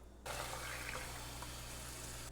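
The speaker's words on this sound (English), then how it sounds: "you're going to add your gravy or your stock, your turkey stock" Turkey stock pours steadily into a roux for gravy, a soft continuous liquid rush that starts abruptly and runs on quietly without talk.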